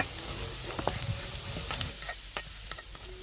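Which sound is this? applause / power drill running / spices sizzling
spices sizzling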